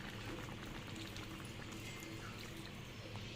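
Fern curry with thick coconut milk simmering in a pot, a steady dense bubbling and spattering that runs continuously at a constant level with no talk.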